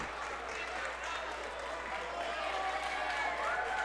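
A boxing arena crowd applauds and cheers steadily for a fighter on a victory lap, a broad, sustained roar of clapping heard at a distance under a commentator's talk.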